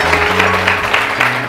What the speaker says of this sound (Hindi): जारा के लिए ताली तो बजाओ तुम लोग